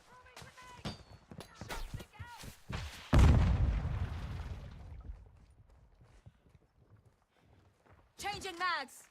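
Gunfire in a modern military shooter video game: a rapid run of sharp shots, then a heavy blast with a long rumbling tail. Clanking sounds and a voice-like call follow near the end.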